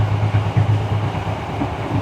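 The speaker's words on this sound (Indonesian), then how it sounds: "kereta api Mutiara Timur akan berhenti di stasiun Porong" Mutiara Timur passenger train running on rails at night as it approaches Porong station, a steady low rumble and rolling drone heard from close by, with no talking.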